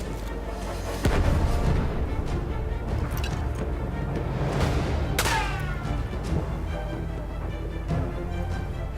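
Gunfire and heavy booms in the World War I shooter Battlefield 1, with a few sharp loud blasts and a rolling artillery-like rumble over constant battlefield noise.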